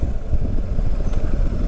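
A motorcycle with automatic dynamic suspension and an engine restart function is ridden at a steady, continuous rumble, close and fairly loud, with no pauses.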